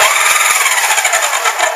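A Strikemaster Lithium Lazer battery-powered ice auger spinning out on real ice, giving a loud, steady high-pitched electric whir with rapid fluttering pulses underneath, close and continuous.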